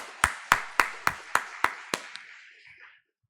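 Seven or eight sharp, evenly spaced claps ring out in a slow, steady rhythm at a Friday church service, then fade with a short reverberant tail.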